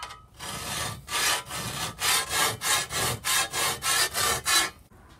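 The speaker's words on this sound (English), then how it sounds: "right here I've started to file this down" A metal file rasps across the edge of a shovel blade in about a dozen close, evenly spaced strokes, each a loud scraping burst followed by a short pause.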